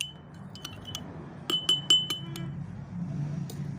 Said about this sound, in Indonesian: yang terakhir kita aduk campuran gula dengan minyak